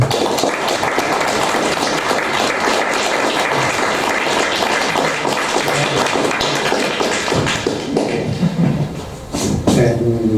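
Audience at the close of a talk on Asturian mythology in literature and art breaks into sustained applause, a dense patter of many hands clapping that thins out toward the end as murmured talk rises.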